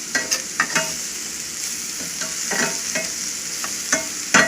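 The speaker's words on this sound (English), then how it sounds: "you're just wilting this stuff down with the onions and the garlic" Onions and garlic for a lobster stuffing sizzle and fry in a pan, with repeated stirring scrapes and clicks close by over the steady crackle. No voices are heard.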